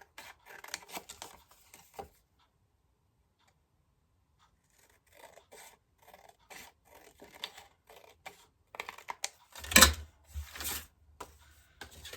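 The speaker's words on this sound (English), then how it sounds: "I'm just going to fussy cut this one out" Scissors fussy cutting around a paper card layer, a close series of soft snips and rustling paper with quiet pauses and one sharper burst near the end.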